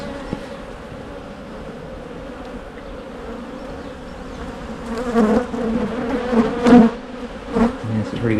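Honey bees buzz around an open hive during an inspection, a close, steady drone that swells louder and busier in the second half as bees fly near.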